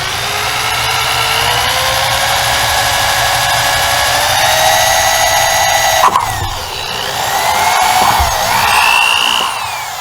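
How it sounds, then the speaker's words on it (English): Cordless power drill boring holes into a Peterbilt truck body for new headlights, a loud whine rising in pitch as the bit bites, a brief stop around the middle, then a second sustained burst of drilling. "Now it's time to drill."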